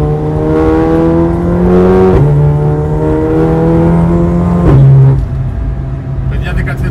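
A VW Golf 7 Clubsport P61 Sport Cup Edition engine revs loudly up close, rising in pitch, then dropping sharply on downshifts before pulling hard again in third gear.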